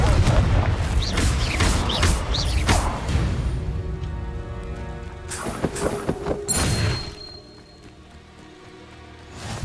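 Confringo fire spell blasts in Hogwarts Legacy: a run of loud, booming explosions with crackling impacts in the first half, then a last thud and a quieter stretch as the noise fades away.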